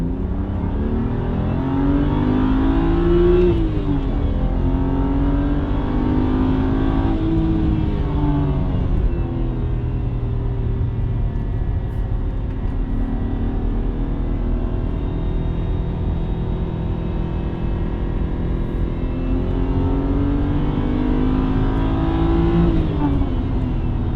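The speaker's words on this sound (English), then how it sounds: "That's what an N52 sounds like." A BMW N52 inline-six in an E90 328i with an upgraded exhaust drones deep and loud through the gears, rising and falling with repeated revs under steady acceleration.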